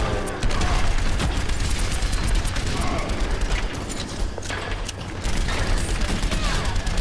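Sustained, dense weapon fire blasting through a shield in the video game Overwatch, loud and continuous with heavy booming bursts and mechanical clatter for the whole stretch, no voice over it.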